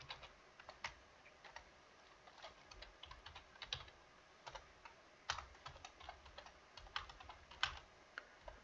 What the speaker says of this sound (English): just typing it up